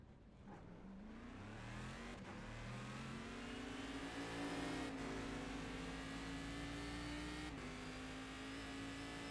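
A car in a driving video game roars at full throttle, its engine note climbing steadily with brief dips at gear shifts, loud and continuous throughout.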